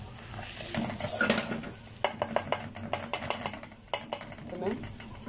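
Rice crackling in a hot pot, a sizzling bed broken by a run of sharp popping crackles and stirring clinks, close by, with a voice speaking over it.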